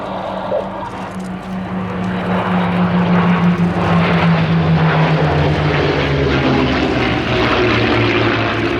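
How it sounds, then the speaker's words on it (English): A formation of WWII piston fighters, a Thunderbolt, P-51 Mustang, Spitfire and Buchon 109, runs in at an air display with a loud, sustained propeller-engine roar that swells and shifts in pitch as the aircraft pass. "here we come, the Ultimate Fighters led by Jon Gowdy in the lead of the Thunderbolt"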